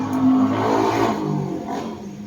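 Traffic passing along a street beside an outdoor spot where a cactus is being repotted, a steady close engine rumble and whoosh of cars going by throughout, swelling and easing slightly, with no talk.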